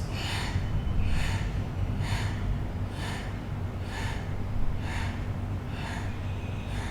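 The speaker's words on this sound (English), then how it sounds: "Now you're going to breathe in 8 segments of your breath." Segmented breathing during a chakra breathwork exercise: a regular series of short, sharp breath pulses at about two per second, close and clear over a low steady background hum.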